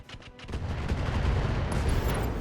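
An ammunition explosion in the RogueTech mod of the BattleTech game: a heavy booming blast that swells within the first half second and then rumbles on as dense, loud crackling roar.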